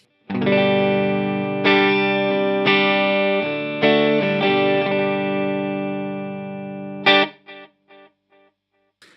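An electric guitar with a thick, distorted tone and no compressor rings out chords and notes, with natural uneven attacks and decays, ending in a few quick choppy stabs.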